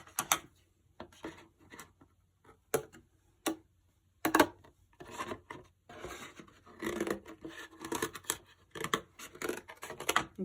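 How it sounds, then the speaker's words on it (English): Scissors rough-cutting a shape from fabric for an egg-themed ornament, with close crisp snips in irregular bursts separated by short pauses. "Now I'm going to cut the other shape."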